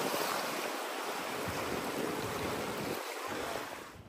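Surf breaks against the rocky Konkan shore at Ganpatipule, a steady roaring wash with wind across the rocks that holds constant and fades slightly at the end.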